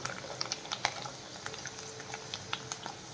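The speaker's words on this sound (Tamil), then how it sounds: "இன்னொரு முறை பொரித்து பார்த்துடலாம்." Rice murukku vattal made from parboiled ration rice frying in hot oil, a steady close bubbling crackle with scattered sharper pops throughout and no voices.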